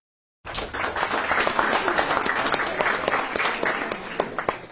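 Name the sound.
audience applause for a guest speaker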